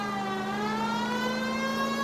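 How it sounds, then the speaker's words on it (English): A police car siren wails continuously in the video game LA Noire, a steady loud tone sweeping slowly in pitch with engine noise underneath. "Siren now online."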